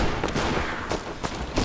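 Bursts of gunfire from a machine gun in the World War II shooter Sniper Elite V2, three or four sharp broadband cracks spaced across a dense, continuous battle din with no voices.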